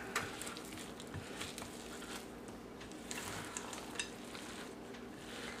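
A spoon works through a wet zucchini chocolate chip bread batter studded with walnuts, giving soft, quiet, irregular squelching and scraping strokes close by with no talking.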